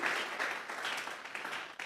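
A church congregation claps together as an offering of praise, a dense, steady patter of many hands lasting under two seconds with no break.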